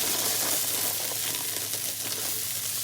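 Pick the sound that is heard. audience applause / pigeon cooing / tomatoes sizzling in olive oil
tomatoes sizzling in olive oil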